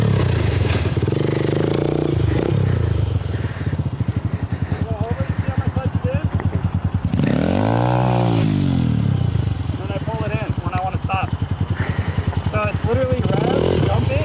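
A motorcycle engine drones steadily up close, then swells into a sharp rev that rises and falls near the middle as the clutch is dumped, before settling back to a rough, pulsing run.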